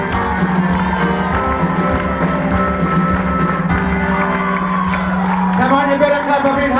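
Rock-and-roll show audience roaring for the performers, a dense crowd din of cheers and shouts with a voice over a microphone, loud and unbroken throughout.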